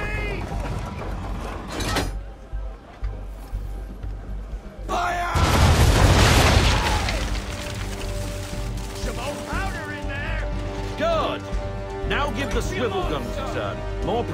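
Ship cannons firing in Assassin's Creed III naval combat, a heavy booming blast rumbling for over a second amid crashing impacts and battle noise, with voices shouting and talking throughout.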